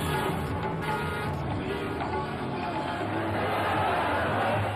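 A huge crowd roars at a PTI rally for Imran Khan in the Punjabi town of Chichawatni, a dense, steady wash of distant massed voices with a narrator speaking over it.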